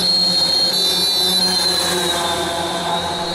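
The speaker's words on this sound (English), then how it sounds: "The unit has a total of one siren, which sounds like this or similar." A single-tone siren on a 1997 former German Army Mercedes G-class ambulance wails steadily and loudly with a sustained high pitch, continuous throughout with no talking.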